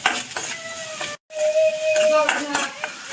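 Sliced onion dropped into hot oil with popping mustard seeds and stirred, a close sizzle with scraping and clinks of a spoon against the pan, briefly cut off midway, with a tonal whine running through.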